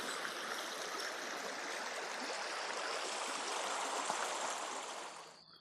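A trout stream rushes and burbles steadily at close range beside an embankment, a dense continuous wash of water that cuts off sharply near the end.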